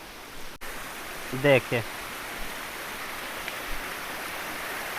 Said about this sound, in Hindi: कितना सुंदर प्राकृतिक झरना चट्टानों से निकल रहा है